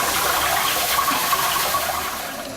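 Water rushes steadily from an activated fire sprinkler deluge valve, a loud, continuous broadband gush that holds constant for the whole stretch and fades slightly at the end, with no voices.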